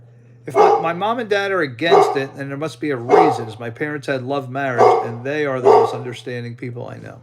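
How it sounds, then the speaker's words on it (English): Pet dogs, one named Jinxie, bark repeatedly in a house as a Verizon technician arrives: a close, loud, steady run of yapping barks that fills the whole stretch, with a voice mixed in. "you're going to hear the dogs barking"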